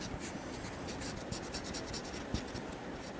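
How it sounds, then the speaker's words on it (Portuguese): Pen coloring on paper, a faint, close, continuous scratchy scribbling with quick back-and-forth strokes and no voice over it. "Vou colorir aqui para vocês identificarem."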